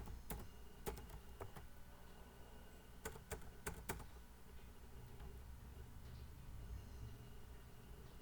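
A few sparse, quiet clicks come from a computer keyboard as a password is entered at a login screen. The keystrokes fall in two small clusters over a low, steady room hum, and the rest stays still.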